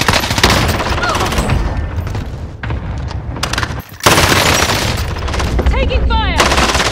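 Heavy video game gunfire, continuous loud automatic bursts and booming shots filling the whole stretch with only a brief lull midway, close and intense.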